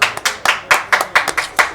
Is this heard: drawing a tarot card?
no